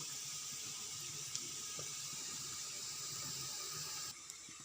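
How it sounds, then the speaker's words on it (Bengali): Hot water pours steadily into a container in a home kitchen. It makes a close, even rushing hiss that stops abruptly near the end, with one small clink. "আর এখানে জলটা ঢেলে নিয়েছি, গরম জলটা"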